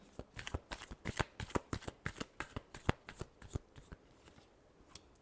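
Tarot cards shuffled in quick, rhythmic riffles during a horoscope reading: a dense run of crisp, close flicks and slaps that taper off near the end, with no talking.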